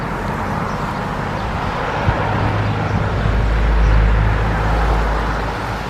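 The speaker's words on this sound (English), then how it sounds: "So that's cars all driving through large puddles that are still sitting on the road" Cars on a road driving through large puddles of snowmelt and rain, a continuous wash of tyre spray and traffic rumble that swells toward the middle, with breeze in the background and no talking.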